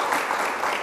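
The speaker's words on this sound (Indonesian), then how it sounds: "Jadi tepuk tangan lagi, luar biasa." Brief burst of audience applause at a management talk-show taping, dense clapping throughout the short moment at a steady level.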